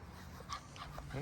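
Small dog in a garden giving a few faint whimpering yips, quiet and close, with a person talking over it.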